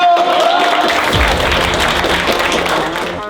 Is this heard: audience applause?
yes